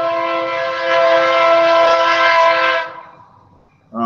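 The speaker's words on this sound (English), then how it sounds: "Yeah, the fucking train, bro." A passing train sounds a loud, sustained harmonic horn for close to three seconds. The horn cuts off and the rumble fades, then a short sound starts right at the end.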